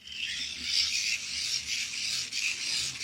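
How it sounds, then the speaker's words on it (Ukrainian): A hand-cranked generator is turned, giving a continuous close rasping whir that swells and eases slightly as the crank goes round, with no talk. "Я буду зараз крутити генератор і подивимось, що відбувається."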